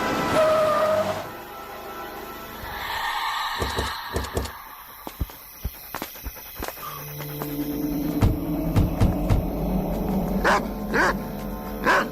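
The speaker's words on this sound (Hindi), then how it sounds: "ये आज इतना भौंक क्यों रहा शायद है?" A dog barks repeatedly in short sharp bursts at a moderate distance, over a low background rumble.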